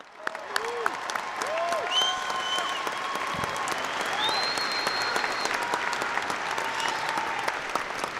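A crowd applauds at a spring undergraduate commencement ceremony at the University of North Dakota, a broad, moderate clapping texture mixed with whistles and cheers and faint voices throughout.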